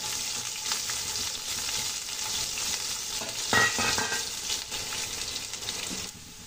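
Chopped onions and garlic fry in hot oil until golden brown, giving a steady, fairly close sizzle. Occasional stirring scrapes and brief clatters rise above it before the sound drops lower at the end.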